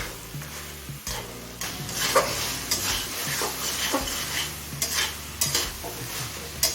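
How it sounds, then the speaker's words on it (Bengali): Chicken sizzles steadily as it is stir-fried in oily spices over a medium gas flame for jackfruit curry, with repeated scraping strokes of a spatula against the pan under a continuous frying hiss. "এখন মশলা থেকে তেল ছেড়ে আসা পর্যন্ত চিকেনটা কষিয়ে নেব"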